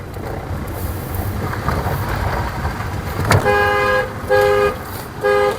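A car drives slowly along a rough road through dense winter jungle in Uttarakhand. Steady road and engine rumble fills the clip, then a few short horn beeps sound in the last two seconds.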